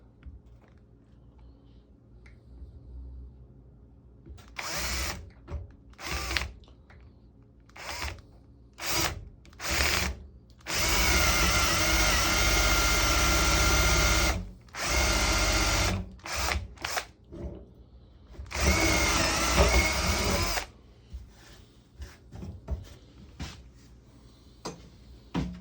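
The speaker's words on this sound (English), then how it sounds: "And I'm going to drill all the way into the back." A power drill whirs in repeated bursts while drilling parts for a jeweler's wire draw bench, short stop-start pulses building to several long sustained runs, close and loud with no talking.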